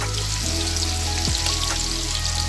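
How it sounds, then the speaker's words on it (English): Minced meat hits hot vegetable oil with onion for a Nigerian meat pie filling, a loud, steady sizzle with a couple of quick stirring scrapes. "Now I'll be adding the minced meat."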